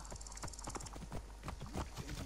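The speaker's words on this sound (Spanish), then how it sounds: "Vale, un caballito" Horse hooves clip-clopping at a steady trot in Assassin's Creed Origins, crisp, evenly spaced beats close by, fairly quiet, with a faint chime at the start.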